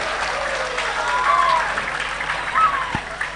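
Applause from a school audience at a high school anniversary gathering, a steady wash of clapping honoring teachers, with faint voices mixed into the crowd noise.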